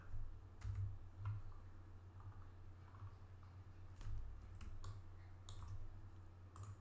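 Computer keyboard typing while modelling a flange coupling in Onshape, scattered quiet clicks in short bursts with pauses between, faint and close over a low steady hum.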